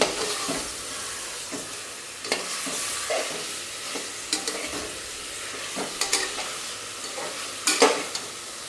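Whole spices and a ground paste fry together in a pan while a spoon stirs them, scraping and tapping in irregular knocks over a continuous sizzle, close and fairly loud with no voices.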